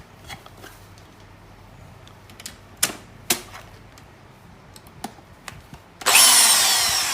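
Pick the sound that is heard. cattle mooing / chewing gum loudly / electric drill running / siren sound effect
electric drill running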